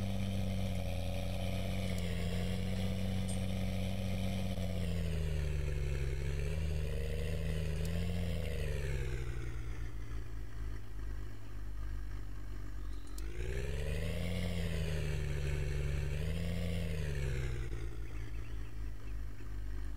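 An older 8-series tractor engine in the Farming Simulator 2013 game drones steadily at close range, with the pitch rising and falling as it revs up and eases off several times.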